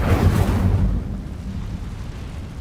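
A fire spell cast in the Hogwarts Legacy video game gives a loud low whooshing roar that swells at the start, then trails off into a rumbling crackle, with no voices.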